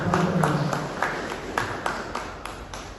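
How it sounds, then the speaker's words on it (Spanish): An audience applauds a newly welcomed speaker at a university event, moderate clapping from many hands that slowly fades over a few seconds, with scattered sharper claps standing out. "pido un fuerte aplauso para Joel"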